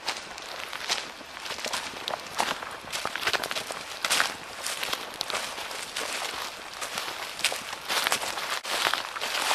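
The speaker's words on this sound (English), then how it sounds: "I can hear something walking." Irregular crunching footsteps move through brush and dry leaves in Florida's Green Swamp, steady and fairly close, with rustling throughout and no clear talking.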